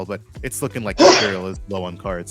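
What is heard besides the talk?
a person sneezing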